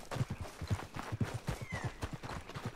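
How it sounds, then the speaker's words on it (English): A horse's hooves clip-clop at a walk in Red Dead Redemption 2, soft, uneven thuds close by and fairly quiet, with no talking. "Horse followed me. This way, horse."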